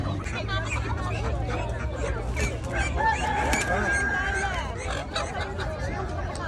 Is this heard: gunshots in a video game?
no